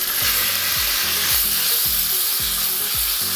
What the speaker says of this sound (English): I'm going to cook this for just a few minutes until that meat is warmed up